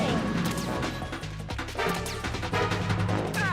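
Grenades exploding in Metal Gear Solid 2, loud crashing blasts and metallic impacts layered over game music and sound effects.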